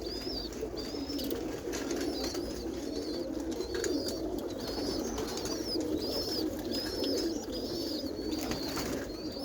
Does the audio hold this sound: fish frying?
no